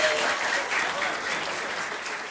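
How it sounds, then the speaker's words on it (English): Children at a school literacy assembly break into steady, full applause, a dense wash of clapping from a large group that stays loud and even throughout with no talking over it. "All right, give yourselves a big round of applause."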